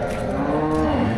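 Cattle low loudly at a bull and cattle market in Melapalayam, a sustained close moo with deep harmonic tone filling the short stretch, with market crowd noise faintly behind.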